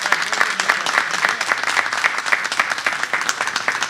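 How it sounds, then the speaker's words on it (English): An audience applauds the governor at a grant presentation, with a loud, close, rhythmic burst of many hands clapping that continues steadily for a few seconds. "let's give the governor another round of applause"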